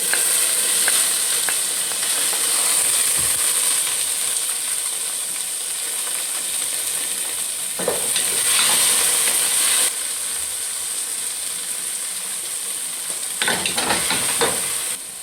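Tomatoes sauté in a hot pan for chicken biryani, giving a loud, steady sizzle, with occasional scraping stirs breaking through.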